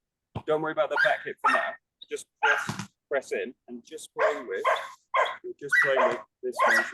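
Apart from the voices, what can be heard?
dogs barking in the background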